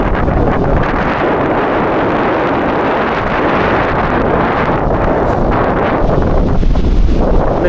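Strong wind at the Bangui wind farm in Ilocos Norte roars and buffets the microphone steadily throughout, a dense continuous rush with no voices.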